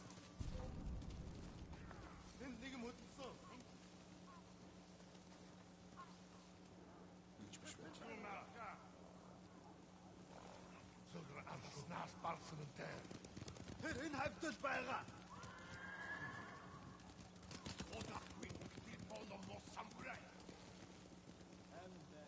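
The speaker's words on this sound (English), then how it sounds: "Bastards scared off the horses." Samurai horses in a video game bolt away, faint hoofbeats drumming amid low rumbling and a brief whinny, set under quiet game ambience with a steady hum and a voice speaking partway through.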